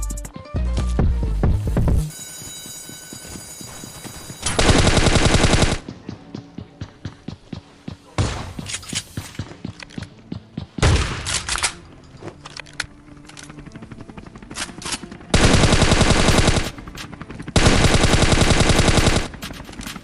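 Rapid gunfire from the Scarfall battle royale game, with long sustained automatic bursts alternating with short clusters of shots and brief pauses, loud and close throughout.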